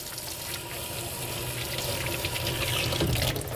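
A kitchen tap runs in a steady, close, even stream into a sink while hands are washed with soap, with no talk over it.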